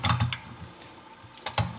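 A 12-inch crescent wrench tightens a soft brass 3/4-inch PEX fitting, giving short bursts of metallic clicking and ratcheting at the start and end with a quieter scrape between them.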